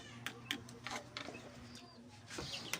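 Pigeons kept as pet birds give faint, soft calls and occasional short flutters or taps in a quiet room, with low indoor hum underneath.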